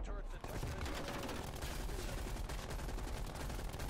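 Dense, continuous automatic gunfire from a split-screen Call of Duty: Black Ops Cold War match, loud rapid bursts filling the whole stretch, with players' voices faintly under it.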